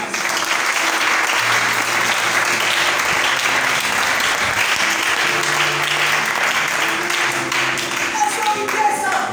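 Church congregation applauding the Lord at an Easter service: loud, steady, sustained clapping from many hands, with low sustained tones and a few voices faintly underneath.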